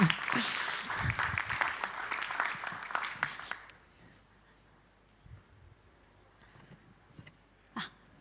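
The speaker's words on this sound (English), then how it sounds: "Let's meet with an applause." An audience at a deep tech startup pitch competition claps, a dense burst of applause that fades out after about three and a half seconds, leaving a quiet room with a few faint knocks and shuffles.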